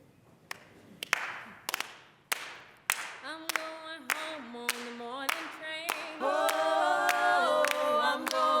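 Scattered audience claps at a Black History Month kick-off event grow into a rhythm, then singing voices and music rise beneath the clapping toward the end.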